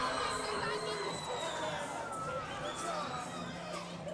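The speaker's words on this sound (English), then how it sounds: "If you hear this crowd, it's going to be split in here." Dense arena crowd roar at a New Line Cagefighting 22 event, a steady wash of cheering and chatter with scattered whoops, loud and continuous throughout.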